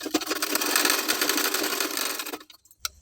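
A sewing machine stitches tucks near the armhole of a garment, buzzing steadily at close range for over two seconds before stopping, followed by a brief click.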